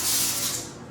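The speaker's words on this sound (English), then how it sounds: "I'm going to take a little bit of avocado spray on the top" Avocado oil aerosol sprayed over the top of raw salmon, one short steady hissing burst lasting under a second, close and clear.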